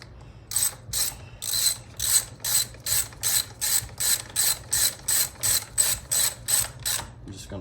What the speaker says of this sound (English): I'll run them down with a ratchet